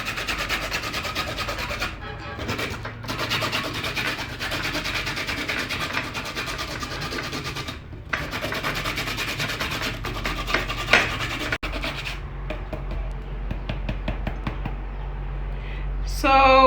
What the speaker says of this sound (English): So you just grate.